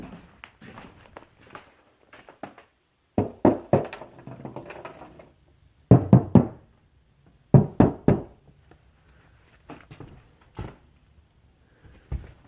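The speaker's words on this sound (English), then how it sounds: "But I can hear squirrel activity back here." Scattered thumps, scratches and scurrying knocks of squirrels come in clusters with quiet gaps between, muffled as if moving inside an attic ceiling.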